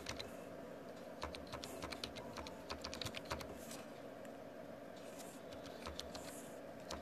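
Computer keyboard keys click in quick, irregular bursts as sign-in credentials are typed, faint and close over a low steady hum, with short pauses between runs of keystrokes.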